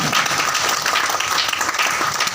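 A seminar audience at a leadership training event in Bathinda claps together in sustained, dense applause that stays loud and even throughout.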